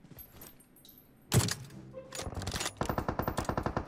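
Gunfire in the mobile game PUBG Mobile: scattered quiet shots, then a loud single blast, followed by rapid bursts and a steady automatic rattle of evenly spaced shots.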